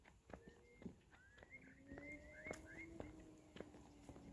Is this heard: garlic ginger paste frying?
no